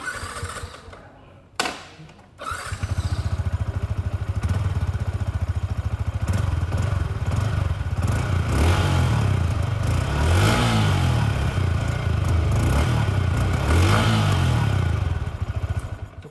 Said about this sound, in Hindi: Now talking about the exhaust note of this bike.